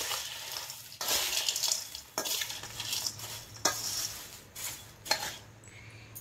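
Poha chivda snack being tossed with roasted cumin powder, chilli powder and salt, a steady scraping and rustling stir broken by several sharp clanks of a spoon against the bowl, close and alone.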